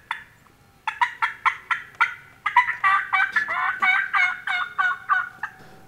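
A wild turkey gobbles in a rapid series of loud, rattling calls, one burst after another, clear and fairly close with no talk over it.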